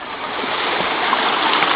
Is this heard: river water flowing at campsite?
yes